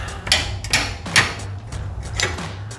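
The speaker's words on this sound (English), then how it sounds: "So we're going to hammer this guy out." Four sharp metal hammer strikes drive a 19mm bolt out of the front lower control arm on a 2016-2023 Toyota Tacoma, spaced about every half second, close and clear, with no talk.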